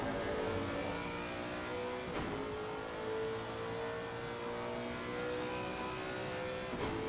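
In a Nürburgring racing game, a Lexus RC F GT3 with a 5.4-litre V8 drones on steadily close by, its engine pitch rising and falling through gear changes and sitting loud and continuous throughout.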